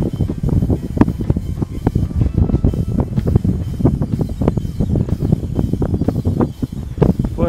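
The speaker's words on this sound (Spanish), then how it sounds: "se puede ver que está súper ventoso" Strong, near-freezing wind buffets the microphone in loud, rumbling gusts that roar continuously throughout.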